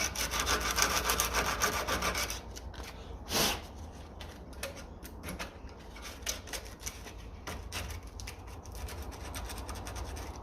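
Sandpaper rubs against an original radiator part from a 1957 Ferguson FE35 TVO tractor in quick repeated scratching strokes, loud at first and then quieter and irregular.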